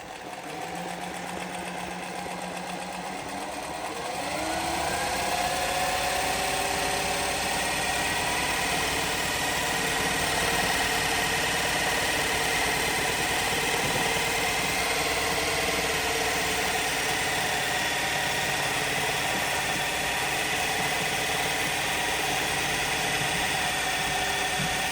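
Juki LZ-271 industrial zigzag sewing machine stitching freehand embroidery at a 10 mm zigzag width; it starts after a short quiet moment, then runs as a steady, close, fast mechanical whir for over twenty seconds.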